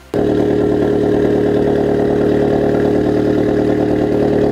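A turbocharged Mazda Miata engine starts up and settles into a loud, steady idle running very rich, with a rough, even pulsing rumble.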